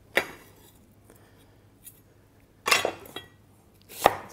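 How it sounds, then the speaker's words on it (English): A knife roughly chopping onion and garlic cloves on a board, heard as a few scattered, close cutting knocks with quiet gaps between them. "So we're just gonna roughly chop the onion, roughly chop the garlic."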